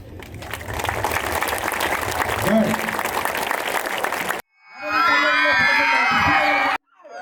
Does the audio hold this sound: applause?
yes